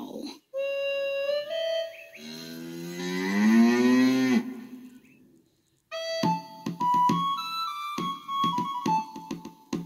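A cow moos loudly in a long, wavering low call, followed by a pause and then a melodic whistled or musical passage.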